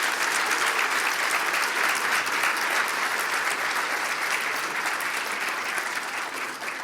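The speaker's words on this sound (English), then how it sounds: "can we get a round of applause first?" Steady, dense applause from an audience at a talk before a coffee break, loud and even throughout with no voices over it, easing slightly at the very end.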